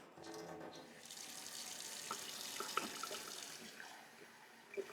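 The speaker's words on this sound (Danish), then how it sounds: "Og så stikker man den her ned i et glas vand. Det prøver vi lige nu her. Og vi tager det bare fra vandhanen." Tap water from a kitchen faucet runs steadily into a glass, a continuous close hiss and splash with a few small plinks toward the end, and nobody speaks.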